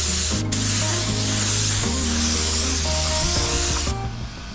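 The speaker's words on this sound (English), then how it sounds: "I might spray one more coat of clear on there" A spray gun applying clear coat hisses steadily and loudly for about four seconds, a continuous broad airy rush with a faint mechanical hum underneath, then cuts off.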